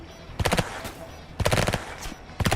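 Machine gun fire in the Emergency video game, three loud clustered bursts of rapid shots spaced about a second apart, with faint radio chatter in the background.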